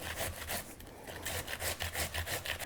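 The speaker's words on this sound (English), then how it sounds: "I'm just going to take my grater, I'll put it right inside my bag, and I'm just going to go to town and shred this zucchini." A hand grater shredding zucchini inside a bag gives rapid, rhythmic rasping strokes. The scraping is steady and close, with no talk over it.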